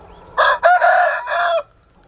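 A gamecock rooster just out of the breeding pen crows once nearby, a loud multi-part cock-a-doodle-doo lasting about a second.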